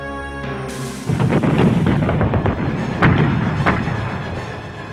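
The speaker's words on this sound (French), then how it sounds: "les canons de Giap bombardent les Français" Viet Minh artillery shelling French positions at Dien Bien Phu, heard as a dense run of heavy booms and thuds with two sharper blasts, loud and continuous after a brief quieter opening.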